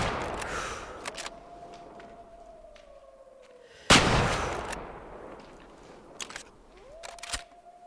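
A single rifle shot cracks loudly at a fallow deer in the hunting game Way of the Hunter, followed by a fading echo; quiet outdoor ambience with a faint tonal hum and small clicks surrounds it.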